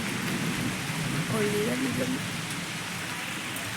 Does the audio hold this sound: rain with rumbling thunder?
yes